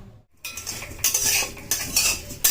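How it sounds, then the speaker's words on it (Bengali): Vermicelli is stirred in hot ghee in a kadai: close, repeated metal scraping and clattering of the spoon against the pan in uneven bursts. "কড়াইয়ে ঘিটা গরম করে নিয়েছি তারপরে সিমুইটা দিয়ে দিলাম এবার লাল লাল করে ভেজে নিয়ে"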